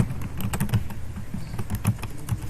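Code being typed in Turbo C on a computer keyboard, a steady run of close, clattering keystrokes with irregular rhythm and a few heavier thumps, no voices.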